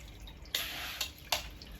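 Water splashes and runs in short bursts as sand for a hermit crab tank is rinsed under a tap, with three brief surges over a low steady hiss.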